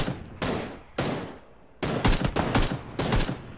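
Gunshots in PUBG: a few loud, sharp single reports with echoing tails, followed by a tight cluster of rapid shots in quick succession, close and punchy with no talk over them.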